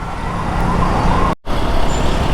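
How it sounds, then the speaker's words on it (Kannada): Steady roar of road traffic in a congested street, with an emergency vehicle's siren blending into the dense engine noise; the sound is continuous and fairly loud, broken by a brief dropout near the middle. "ಜಾಗ ಇದ್ರೆ ತಾನೇ ಜನನೂ ಆಂಬುಲೆನ್ಸ್ ಜಾಗ ಬಿಡ್ತಾರೆ"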